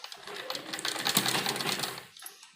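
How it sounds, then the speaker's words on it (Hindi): A sewing machine runs a short burst of stitching along the lower edge of a pleated frock with a double-layer umbrella sleeve, a fast rattling whir that rises then stops, close and fairly quiet. "सबसे पहले हम नीचे की तरफ से सिलाई लगानी शुरू करेंगे यहाँ पर"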